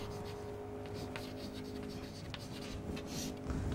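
A marker or chalk scratches across a classroom board in short, faint strokes while a truth table is written out, with light rubbing and no clear speech.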